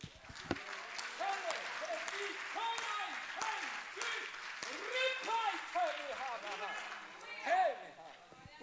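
A church congregation applauds vigorously during a service, a dense, sustained roar of clapping mixed with loud voices calling and shouting over it.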